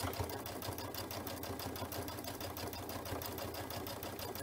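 A sewing machine runs steadily, stitching piping filled with cord onto a quilt, a fast even mechanical whirr and needle chatter that stays close and loud throughout, with no talking.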